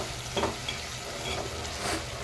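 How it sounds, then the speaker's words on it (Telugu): Tomatoes fry in a pan for a green chili, tomato and coriander chutney, giving a soft continuous sizzle with a few light stirring scrapes, close and fairly quiet. "టమాటాలు వేగుతున్నాయండి."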